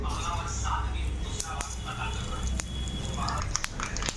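Panch phoron spices spluttering in hot ghee in a home kitchen, a faint continuous crackle with scattered sharp pops over a low background rumble.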